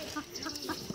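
A rooster at a chicken market gives several quick, short clucks in close succession, moderately faint, with no talk during the sounds.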